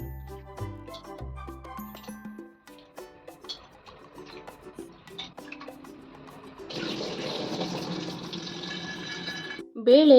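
Peeled almonds being washed in water: after a stretch of soft tonal music, a steady splashing, running-water wash lasts about three seconds, fairly close, before a brief clatter at the end.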